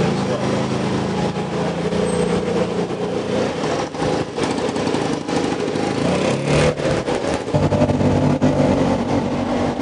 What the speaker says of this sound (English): I thought I'd take some local transport today and get into a little tuk-tuk, a three-wheeler